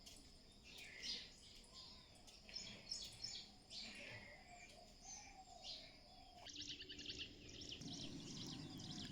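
Birds sing and chirp in the morning near a house with a terrace garden, several bright, repeated calls overlapping near and farther off, with a dove-like coo and soft background hum.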